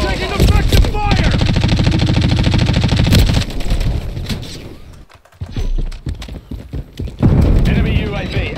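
Gunfire in a multiplayer shooter video game, loud rapid bursts of automatic fire with brief pauses, heard under game voice callouts.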